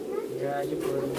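A Ferozpuri pigeon gives a short, close, low rolling coo that swells slightly and holds for about a second.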